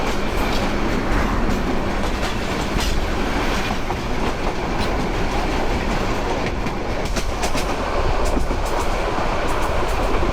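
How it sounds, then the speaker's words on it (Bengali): A North Bengal passenger train bound for Rangpur or Burimari rolls past close by at Kawla, the outer approach to Dhaka Airport railway station, a loud continuous rumble with rhythmic wheel clatter and metallic clicks throughout. "এটা উত্তরবঙ্গের কোনো ট্রেন"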